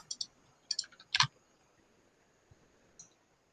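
A computer mouse clicks a handful of times, crisp and close, in small clusters followed by a quiet stretch and one last faint click.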